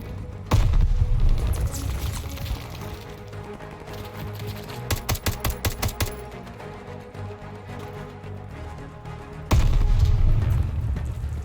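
Bomb blasts in the video game Call of Duty: Vanguard: two heavy, booming bursts open and close the stretch, with a quick run of sharp, evenly spaced cracks between them, loud and close over a steady rumbling game backdrop.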